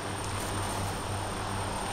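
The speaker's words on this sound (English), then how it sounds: "Chopper is here for anybody who's leaving." Helicopter arriving in the military game Arma 2, a loud, close, continuous rotor and engine roar with a steady throbbing beat filling the whole stretch.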